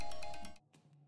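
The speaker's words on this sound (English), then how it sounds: "I'm getting a phone call." A phone ringtone plays inside a horror video game set in a human meat factory, giving a quick series of bright electronic rings that stop after about half a second. Clear and up front, with no speech.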